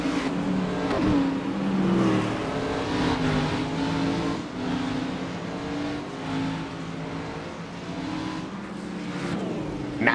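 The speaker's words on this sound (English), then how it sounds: "as the iRacing official pace car gets on the way, time to roll for the first time tonight here in Fontana" A pack of race cars rolls behind the official pace car at Fontana in the iRacing sim game, a steady, loud engine drone that runs the whole time with gentle swells as the cars move together.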